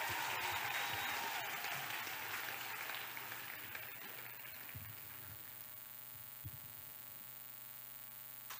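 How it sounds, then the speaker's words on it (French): A church congregation at a prayer and fasting gathering claps together in loud, dense applause that fades after a few seconds, leaving a low room hum with occasional scattered claps. "Let us clap for Jesus."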